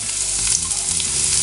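Garlic frying in about a teaspoon of coconut oil in a kadai, with mustard seeds and dried red chillies, gives a steady, loud, close sizzle with no voices.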